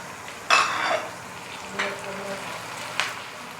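Green chillies, some cut long and some ground to paste, with salt and chilli, frying in a pot for Sindhi biryani and stirred in three brief scraping bursts over a low sizzle.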